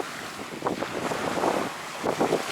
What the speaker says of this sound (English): And right now it's quite a bit windy.